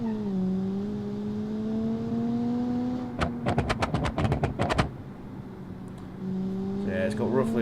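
Custom-built car engine with roughly 220 brake horsepower driven in the BeamNG video game, a steady rising engine drone broken by a quick series of sharp pops and crackles during a gear shift, then settling back into the hum.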